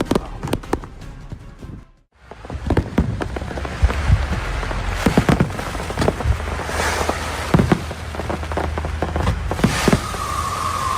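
A firework mouse, a ground spinner, fizzes and sputters after a sudden hush, with crackling pops and bursts repeating amid a loud stretch of fireworks going off nearby.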